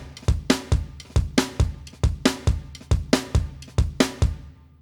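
Samba drum beat programmed from the Battery Session LE kit, a loud, close, fast looping pattern of punchy kicks and bright percussive hits in a steady bouncing rhythm, then fading out.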